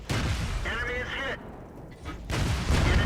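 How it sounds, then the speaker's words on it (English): Tank cannons fire in the World of Tanks video game, loud booming blasts at the start and end with a brief voice in between. "He fires a shot here"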